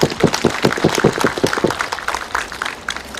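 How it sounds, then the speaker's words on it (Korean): An audience applauds at the opening ceremony of an agricultural cooperative's farm machinery rental office, a burst of close, dense clapping that gradually thins out over a few seconds. "박수 한번 보내주시면 감사하겠습니다"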